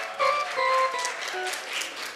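A church congregation claps together at a service, a soft, moderately distant patter of hands with a few tonal voice sounds mixed in.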